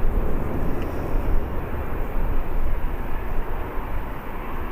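An aircraft lands at Birmingham Airport, a steady loud low engine roar and rushing rumble heard from a distance without pause.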